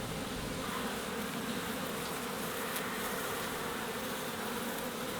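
Honeybees hum around an open beehive full of fresh brood and nectar, a dense continuous buzzing swarm sound close by and unbroken, with no voices.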